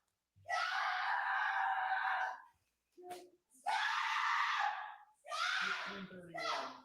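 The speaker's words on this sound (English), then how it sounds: "she's just screaming" A woman screams in long, loud, sustained bursts inside a small concrete room during a DUI arrest, three drawn-out shrieks broken by a short gasp, with a lower moaning wail at the end.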